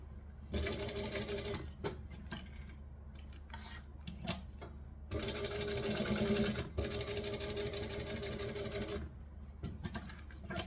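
A sewing machine back stitches through thick material in slow bursts: a short run near the start, brief stops and starts, then a longer steady whirring run before stopping.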